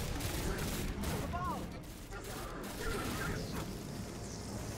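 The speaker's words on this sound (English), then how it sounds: "This is the pulse rifle." Rapid bursts from a pulse rifle in Destiny 2, quick repeated shots with some recoil clatter against busy game noise, fairly quiet overall.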